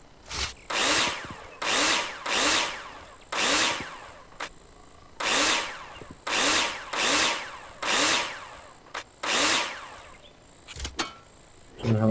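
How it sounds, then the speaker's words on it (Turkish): Power drill in a construction video game, whirring in about ten loud bursts of roughly a second each, separated by short pauses, with no talk over it. "Şundaki matkabı yapalım."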